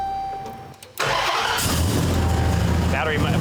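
The HELLTACO's engine cranks and catches with a sudden burst, then settles into a loud, close, rough idle that runs steadily to the end.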